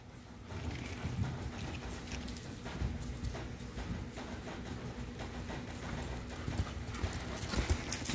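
A horse loping in a youth western pleasure class, with steady rhythmic hoofbeats drumming continuously in an arena amid a constant background rumble.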